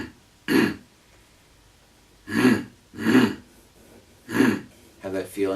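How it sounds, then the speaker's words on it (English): A person clears their throat in several separate rasping bursts with pauses between them, close to the microphone, ending in a quicker cluster of short throaty sounds. "When you're kind of clearing your throat."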